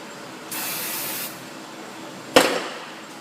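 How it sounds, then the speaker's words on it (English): Brake cleaner hisses from an aerosol can in a short burst onto a rag during a Ford Escape axle seal repair, followed by a brief sharp spurt, close and loud against a quiet shop background. "A little brake clean on a rag"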